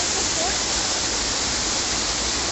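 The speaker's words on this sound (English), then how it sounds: "Beautiful waterfall, yes." A waterfall pours in a steady, loud, continuous roar of rushing water that fills the whole stretch without a break.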